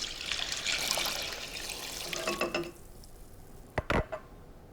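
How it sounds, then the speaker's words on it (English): Fish stock is poured into a pot of shrimp bisque flavored with cognac and sherry, giving a steady splashing pour for nearly three seconds, followed by a few light clinks against the pot. "The fish stock, 3 3/4 cups."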